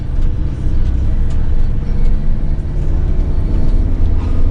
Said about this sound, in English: that lorry's just gone past